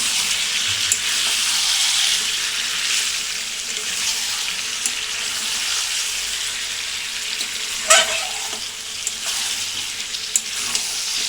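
Hot water rushing into a pan of cooking mutton, a loud, steady, close hiss of pouring and sizzling that runs throughout, with a few sharp clinks of a utensil near the end.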